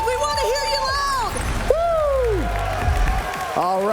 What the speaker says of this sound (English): Who's cheering for Zzweilous? We want to hear you loud.